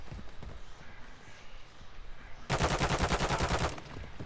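Rapid automatic gunfire in the DMZ mode of a Call of Duty-style shooter, a dense loud burst lasting about a second after quieter game ambience, with no talk over it.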